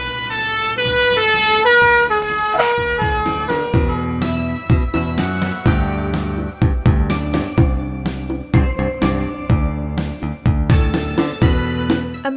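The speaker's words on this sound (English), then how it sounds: "Fire engine." A fire engine sounds a loud, wailing siren along with repeated blasts of a deep air horn, close and continuous, with the horn honks coming in choppy bursts.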